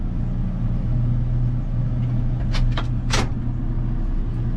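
A combine harvester engine runs at a steady low rumble while the header is lowered, with a few sharp mechanical clicks and hisses partway through; no talk.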